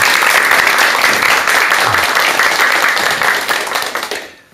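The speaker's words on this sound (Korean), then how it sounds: "그럼 큰 박수와 함께 박사님의 강의 청해 듣도록 하겠습니다." A lecture audience gives a dense, sustained round of applause to welcome a doctor speaking on the Buddha's teachings, holding steady before fading away at the end.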